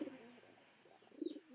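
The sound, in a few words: pigeons cooing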